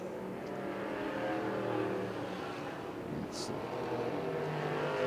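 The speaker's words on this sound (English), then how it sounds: "Jeff Tubbs on the racetrack right now" Race cars at a short track speedway, Orange County Fair Speedway, during a Short Track Super Series event: a continuous, loud, droning engine roar from cars circling the track across the whole stretch, with no clear speech on top.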